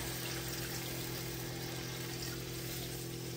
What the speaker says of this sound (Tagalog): maglagay tayo ng tubig